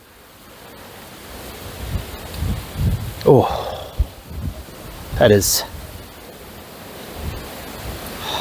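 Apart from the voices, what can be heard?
strong wind outdoors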